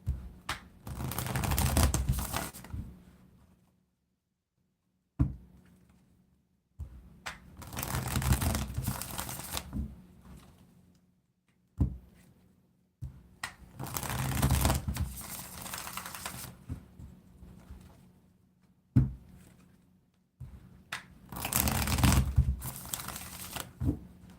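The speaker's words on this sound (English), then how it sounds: "Let's get a good shuffle of these cards." Cards are shuffled close up in four bursts of riffling and rustling, each separated by brief pauses and soft taps.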